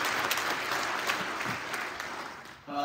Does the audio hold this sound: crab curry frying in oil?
no